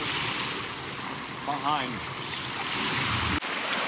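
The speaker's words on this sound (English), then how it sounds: "Right over there is the dump gate, gravity gate, and I'm running some water through it right now." Water rushing through an irrigation ditch past a self-adjusting gravity dump sluice gate, a loud, steady broadband roar throughout, with someone briefly speaking over it.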